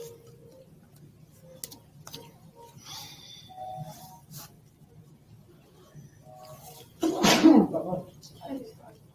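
A single sharp sneeze bursts out loudly near the end, preceded by quiet room noise and a few faint clicks.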